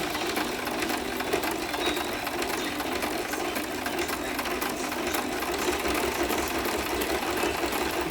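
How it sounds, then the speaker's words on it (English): A sewing machine zigzag-stitching an appliquéd fabric letter runs continuously, a fast, steady mechanical whirr close by with no pauses. "So I'm just going to keep sewing and then I can trim anything that"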